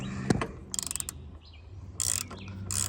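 A deep socket ratchet tightens a pre-filter onto a Kubota BX tractor, giving short bursts of close, rapid clicking separated by brief pauses, with a faint bird chirp in the background.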